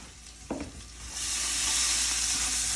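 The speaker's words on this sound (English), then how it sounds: "It's sauteed, the spices have toasted a little bit." Spices sauté in a pan with orange zest, a faint crackle and a short clatter of stirring, then a loud, steady sizzle rising and holding to the end.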